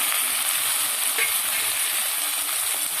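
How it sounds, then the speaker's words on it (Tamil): Minced mutton and tomato sizzle steadily in a frying pan, a constant close crackle that lasts the whole stretch with no voices. "ஆட் பண்ணி கொஞ்சம் நல்லா வதக்கி விடலாங்க."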